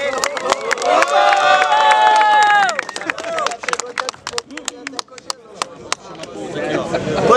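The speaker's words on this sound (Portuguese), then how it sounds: "É uma salva de palmas pra esse round aí." Crowd at a student rap battle in Guarulhos, São Paulo, cheering and shouting loudly after a round, with dense sharp claps and whoops running throughout.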